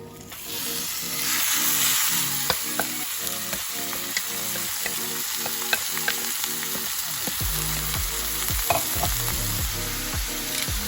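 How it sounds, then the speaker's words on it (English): Steak sizzles in an oiled skillet for Philly cheesesteak, a loud, bright crackling hiss that swells early and holds steady, punctuated by clicks and utensil clatter, with no talking. "you're gonna go ahead and add your steak to the skillet"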